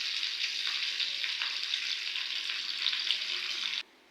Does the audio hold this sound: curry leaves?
yes